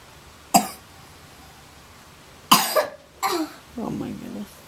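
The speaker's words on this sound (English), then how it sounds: "coughing" A child coughs sharply a few times at close range, the coughs spaced out, followed by a short bit of small voiced sound.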